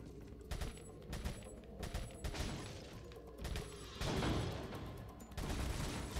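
Rapid bursts of gunfire from target shooting in Resident Evil 4, mixed with mechanical clicks and reload clatter, come close together and irregularly, with no voices over them.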